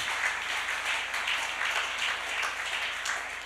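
Church congregation applauding during a worship service, a steady dense wash of many hands clapping that holds at an even level throughout, with no pauses.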